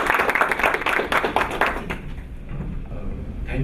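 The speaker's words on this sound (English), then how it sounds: "Give a big round of applause." A round of applause for a company CEO at a corporate event: a burst of clapping from a crowd, strongest for the first two seconds and then thinning out.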